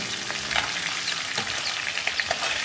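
Catfish frying in a small amount of oil gives a dense, steady sizzle with scattered pops and crackles, close up and without talk.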